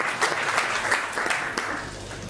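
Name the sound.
audience applause at school inauguration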